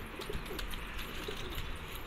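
A female pigeon held in the hand gives a few soft, low coos over a steady background hiss, faint and close.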